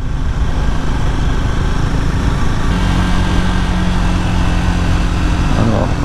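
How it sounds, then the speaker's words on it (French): A Triumph Scrambler 400X single-cylinder motorcycle engine drones steadily at speed, loud and close throughout, with the tone lifting toward the end as revs climb. "Alors là on est à 4000 tours minute, 5000 tours minute."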